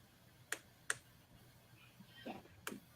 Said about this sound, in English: I hear you clicking a button, I think. Yeah, clicking. Sounds like I'm just pushing a button.